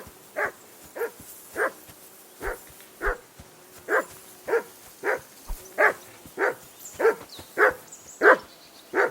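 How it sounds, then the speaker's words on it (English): A dog in Kingdom Come: Deliverance 2 barks in a steady series of about fifteen short, sharp yaps mixed with whimpers, close and clear against a quiet background. "call that dog to heel"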